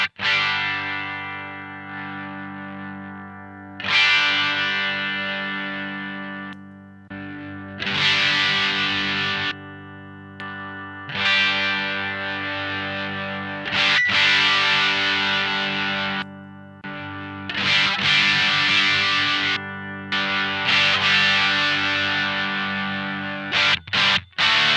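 A distorted electric guitar through a Pro Co Rat pedal plays sustained chords with a thick, fuzzy crunch, each strum ringing out and fading before the next, alone with no talking.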